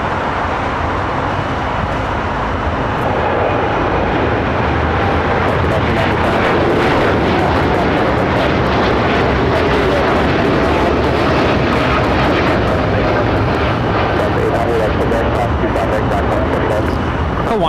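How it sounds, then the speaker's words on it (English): Hawaiian Airlines Boeing 787-9 Dreamliner taking off at LAX, a loud, continuous broadband jet roar that builds and holds through the whole stretch, with faint bursts of crackle above the rumble. "Hawaiian Airlines Flight 3 taking off to Honolulu on the 787-9 Dreamliner"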